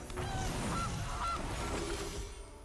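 A Gilded Goose card in the MTG Arena video game gives a faint, short goose-like honk as a game sound effect, heard over a soft background hum.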